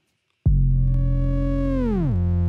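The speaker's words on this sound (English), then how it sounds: "the feedback section is basically an oscillator and it produces a sine wave that follows your input signal" A loud, steady sine-like tone from the feedback oscillator of a Waves Berzerk distortion plugin starts abruptly, holds, then glides down in pitch and settles lower.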